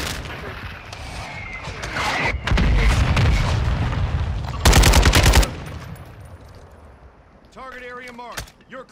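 Rapid machine-gun bursts and heavy gunfire from the Warzone video game, a loud sustained stretch of shots followed by a sharp dense burst, then quieter game sounds with a brief synthetic radio chirp near the end; a player's voice is heard.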